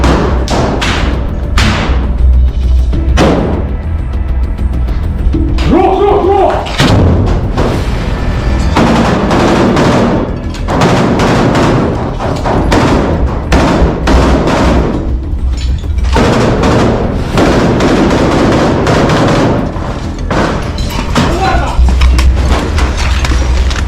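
Gunfire crackles through close quarters combat in Ukraine, with repeated sharp shots, bursts and heavy thuds, some near and some farther off, over a steady rumble with voices talking between the shots.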